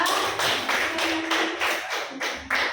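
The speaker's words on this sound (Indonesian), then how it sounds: "Tepuk tangan untuk kelompok 3." Classroom clapping for a student group, several quick rhythmic claps in a short burst, fairly close and loud, with no speech.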